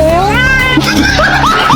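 A cat meowing as a sound effect, a loud, close, drawn-out wail followed by several shorter rising meows, layered over a busy backing.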